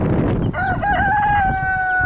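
A rooster crows once, loud and close, a long drawn-out call following a brief burst of noise.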